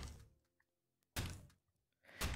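Guns dropped onto the ground in a modded shooter game: two loud, dull thunks about a second apart, each with a short rattling tail, separated by near silence.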